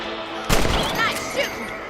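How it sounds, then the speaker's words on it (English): A single loud rifle shot in Red Dead Redemption cracks out near, followed by a brief echoing tail and faint voices in the background. "Nice shooting."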